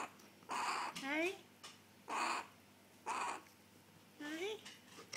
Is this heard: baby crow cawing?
yes